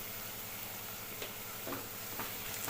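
Turmeric being stirred into onions frying in oil with cumin and ginger-garlic paste, a steady close sizzle with a few soft scrapes of the spoon, no voices.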